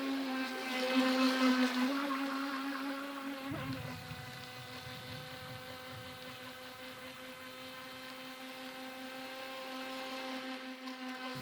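A small RC boat motor whines at a steady high pitch, a buzzing drone with water churning underneath after a few seconds, running continuously and close by.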